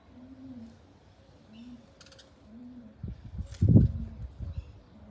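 Pigeons coo softly nearby in a low, repeated rolling call, joined by a few louder flutters and thumps near the end as the birds move about.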